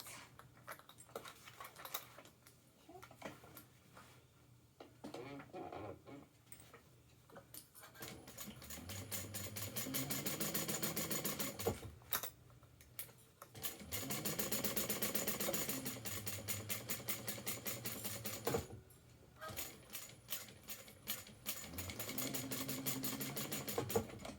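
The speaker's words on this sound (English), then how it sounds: "we're going to be stitching this at our seam allowance" A sewing machine stitching a seam, running in long bursts of rapid, even ticking with brief pauses between, close and clear, after a few quieter handling sounds at the start.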